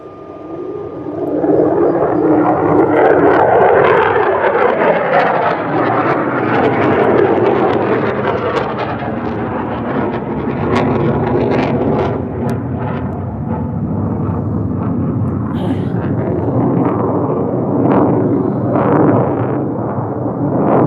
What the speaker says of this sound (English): this is actual training flights at Luke Air Force Base with F-35 pilots